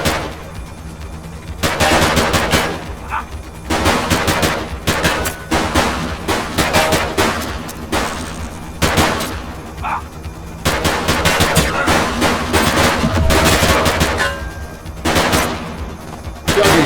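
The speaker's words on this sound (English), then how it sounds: "Shots fired!" Loud, sustained gunfire erupts in a shootout from the police game The Precinct, rapid automatic bursts and overlapping shots hammering almost continuously, close and dense, with no clear voices.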